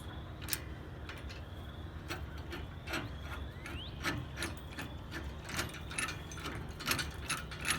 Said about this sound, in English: I can either ratchet it back, or I can go to freewheel and just start loosening it up.